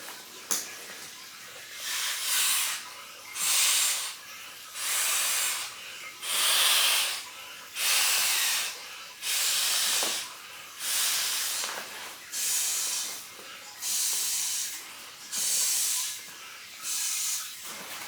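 Repeated breaths blown into the valve of a Trekology UL80 ultralight sleeping mat to inflate it without a pump, roughly a dozen rhythmic airy hisses with short pauses between, close and moderately loud.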